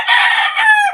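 A red Kelso rooster lets out a single loud, close crow with a sustained, slightly falling call, heard alone.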